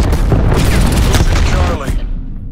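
A grenade blast in Call of Duty Black Ops Cold War, with dense continuous roaring explosion and gunfire noise at high volume that trails off toward the end, radio-style voices mixed in.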